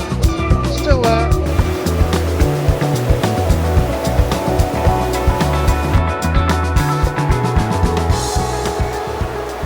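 A swollen Scottish river in bad weather, running about a foot above its usual level, rushes past in a loud, continuous roar with surging, wave-like pulses close by.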